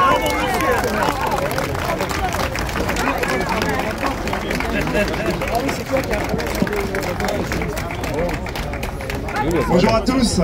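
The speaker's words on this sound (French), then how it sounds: "On applaudit, monsieur là, on applaudit tout de même." Applause and crowd chatter at an outdoor rally supporting police, a steady clatter of many hands mixed with talking voices throughout.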